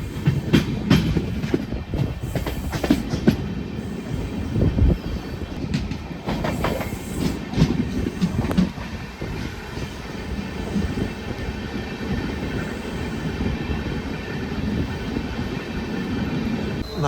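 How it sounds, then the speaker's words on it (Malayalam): The Guruvayur–Madurai Express with LHB coaches rolls slowly on the approach to a station, a steady nearby rumble with clattering wheel-on-rail knocks, louder in the first half. "ഔട്ടറെത്തുന്ന സമയത്ത് ട്രെയിൻ ഭയങ്കര സ്ലോ തന്നെയാണ് കേട്ടോ"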